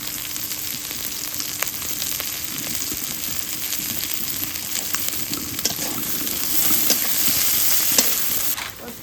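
Chopped onion and green chilli frying in hot oil for a gourd and fish curry, a continuous close sizzle with intermittent stirring scrapes and ticks, slightly louder near the end, with no talking.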